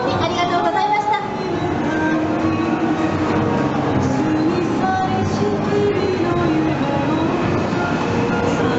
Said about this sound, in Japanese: 皆様の前をゆっくりと今300系新幹線が走り出しました。